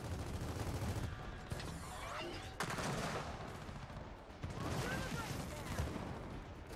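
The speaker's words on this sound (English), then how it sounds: "I didn't mean to shoot that." Gunshots in a video game, rapid overlapping bursts of fire in clusters, fairly dense and distant-sounding, with voices talking over parts of it.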